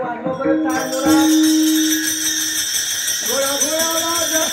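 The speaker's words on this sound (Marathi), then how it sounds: "वाजवा बरं टाळ जोरात" Taal hand cymbals ring out loudly at a Marathi kirtan, their bright shimmer sustained over a harmonium-like drone and singing voices, with a louder, busier passage in the closing seconds.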